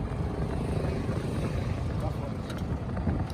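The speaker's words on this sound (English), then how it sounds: "You're hearing the engine." Engine noise during a ride through Luang Prabang by tuk tuk, ferry or sidecar scooter, a loud, constant low rumble mixed with wind buffeting close to the microphone.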